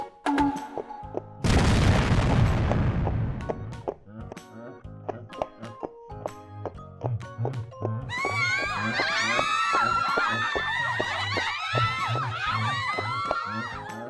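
A booming explosion bursts out early in a kimbap concert scene from a horror video game, followed by rhythmic thumping game music and a clamor of high shrieking, cheering voices.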